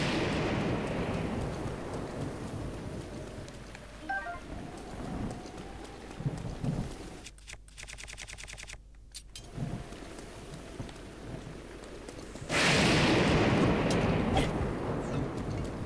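Thunder from a lightning strike rolls through The Legend of Zelda: Breath of the Wild, a loud sudden crash near the end rising over steady rain and hoofbeat-like clopping.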